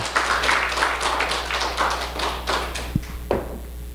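A church congregation claps together in a dense, steady burst of applause that thins out toward the end, with a few isolated claps and taps.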